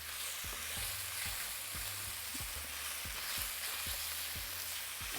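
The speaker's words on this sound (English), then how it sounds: "I want to fry everything all together." Chopped red onion, minced garlic and tomato paste fry together in a pan, a faint, even sizzle with a regular series of soft scraping strokes from stirring, quiet and without voices.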